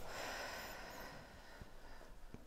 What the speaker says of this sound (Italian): adesso mi fai tre bei respironi belli profondi